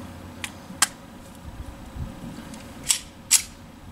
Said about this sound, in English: the mag seems to go in and out just fine